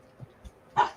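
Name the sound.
dog barking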